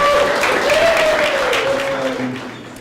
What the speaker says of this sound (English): give Don a round of applause and welcome him to the stage